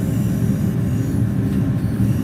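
A DB BR612 diesel train running in Train Sim World 2, a steady, loud rumbling drone of engine and rolling wheels with a continuous rail roar and no talk.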